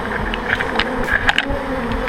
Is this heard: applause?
no